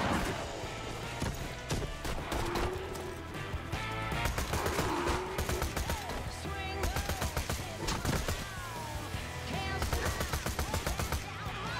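Shotgun blasts from a Borderlands 2 firefight, sharp repeated bangs scattered over dense, busy game music and effects, with loud chaotic action throughout.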